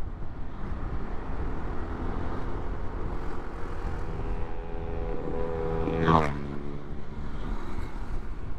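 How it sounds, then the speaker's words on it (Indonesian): Motorcycle fitted with a loud aftermarket 'cerek' exhaust on a mountain road near Blitar, droning steadily nearby, with a sharp rising-then-falling rev burst around the sixth second. "Suara knalpot cerek."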